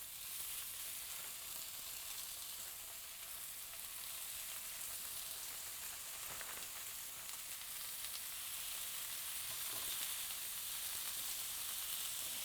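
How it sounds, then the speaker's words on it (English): Chicken sizzling in a hot non-stick grill pan, a continuous bright crackling hiss that holds steady and close, with no voices. "You can hear that nice sizzle. That means my grill pan is nice and hot, ready to go."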